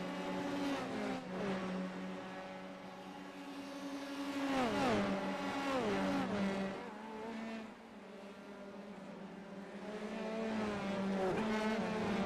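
Formula 3 race cars in a sim racing game at Circuit Gilles Villeneuve scream past, their high engines revving and shifting down through a chicane in overlapping waves, with tires squealing briefly.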